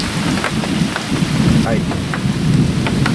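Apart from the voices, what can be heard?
thunder and heavy rain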